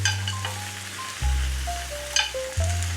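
Vegetables for an easy Asian dinner stir-fry in a hot pan, a steady sizzle broken by soft scraping stirs and a few light clinks, with low tonal hums shifting underneath.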